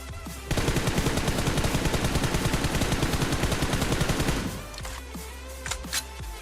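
Sustained automatic gunfire from a video-game rifle fitted with a half grip and 6x scope, a rapid continuous burst lasting about four seconds, loud and close, then cutting off into quieter game ambience.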